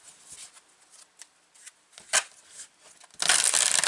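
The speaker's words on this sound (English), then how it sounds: "Let's pull some cards." Tarot cards shuffled by hand before a reading, with soft riffling slaps and brief card flicks close up, ending in a dense, loud burst of rapid shuffling.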